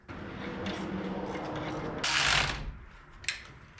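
Ratchet working on the timing belt tensioner of an old U-Haul box truck engine, a continuous clicking ratchet run followed by a brief louder burst and a single sharp click, close up with no talking.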